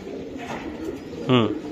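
A racing pigeon gives a single short, close coo near the end, following a stretch of low murmuring with people talking nearby.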